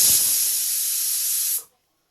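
Pressure cooker whistle shrieking as steam escapes while dal cooks for an Andhra-style tomato pappu, a loud steady hiss lasting about a second and a half before cutting off abruptly into silence.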